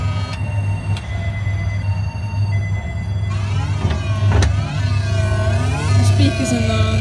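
A BAFCO breakdown truck kiddie ride plays its electronic sound effects, with beeping tones, siren-like swooping notes and sharp clicks over a steady low motor hum, loud and close.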